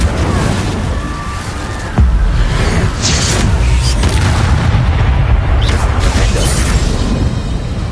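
A Confringo blast spell explodes in the video game Hogwarts Legacy, a loud booming burst that erupts suddenly and rolls on under dense game noise and crackle for several seconds.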